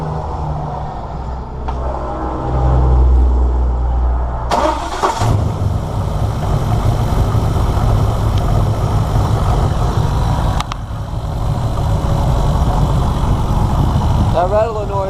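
A 305 V8 fitted with a new carburetor and nitrous plumbing cranks briefly, then catches and settles into a loud, steady, rumbling run close by, with a quieter stretch before the start.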